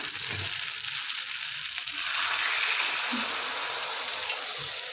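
Oyster masala frying in a pan after a little water is added, giving a steady, close hiss and sizzle with faint stirring bumps underneath and no talking.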